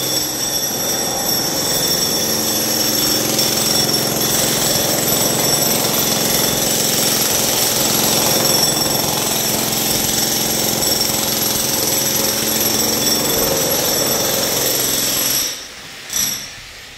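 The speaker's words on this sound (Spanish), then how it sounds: "escarbando con el martillo eléctrico. Está reventando un cemento," A jackhammer breaks up concrete, pounding continuously and loudly at close range, a harsh rattling drone that stops abruptly near the end.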